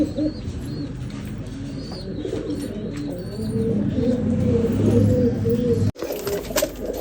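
Ferozpuri pigeons in a fancier's loft coo in repeated throaty phrases close by, over a steady background murmur, growing a little louder before a brief break near the end.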